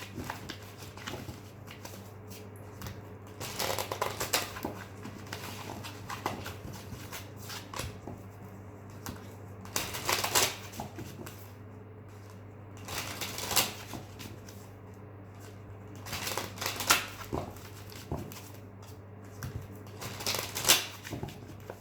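Repeated bursts of tarot card shuffling, riffles and bridges recurring every few seconds, close and fairly clear over a constant low hum.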